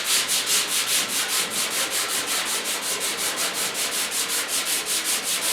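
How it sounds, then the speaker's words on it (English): Flexible hand sander working over the curved steel cab bodywork of a 1972 Ford F100 4x4, heard as close, steady rhythmic rubbing strokes at an even back-and-forth pace with no talking. "It gets kind of complicated, you know, when it comes time to sand."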